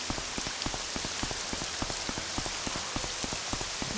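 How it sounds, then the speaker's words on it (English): Steady rain in the open-world game Morrowind, falling on the ground around Gnaar Mok as a constant hiss with regular soft drop ticks, close and even throughout, with no voices. "Let's keep looking around out here in the rain."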